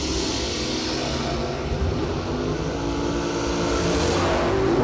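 A 1976 Chevrolet Vega and a 1968 Chevrolet Camaro race at a drag strip, making a loud sustained engine roar that rises as the cars accelerate away.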